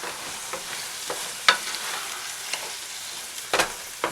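A spoon stirring sausage, peppers, onions and diced tomatoes in a pot, with soft scraping and a few sharper clinks against the sides over a low bubbling simmer, close and steady without talk.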